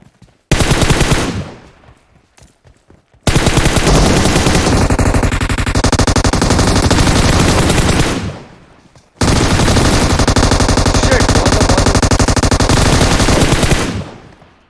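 Automatic machine gun fire in a battle royale video game comes in loud, sustained bursts. A short burst leads off, then two long rapid volleys follow, separated by brief pauses.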